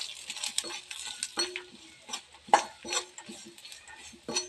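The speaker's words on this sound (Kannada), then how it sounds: "ಇವಾಗ ಫ್ರೈ ಮಾಡಿ ಸ್ವಲ್ಪ." Peanut masala frying in a pan, stirred with a utensil: soft sizzling under a run of scraping clinks and metal taps, with a few sharper knocks, all close and fairly quiet, no voices.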